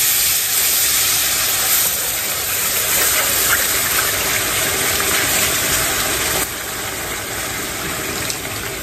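Water pours into a pan of hot onions and flour roux while it is stirred, making a loud, continuous gushing hiss that drops slightly in level partway through.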